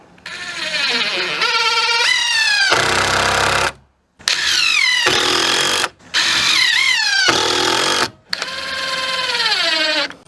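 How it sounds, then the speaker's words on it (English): A power driver runs torque screws into the top plates of a framed wall. Its motor whines and rises in pitch over several long runs, each cut off by brief silences. "I'm using torque screws, and like I showed you down there, I'm going ahead and running these in on the top plates."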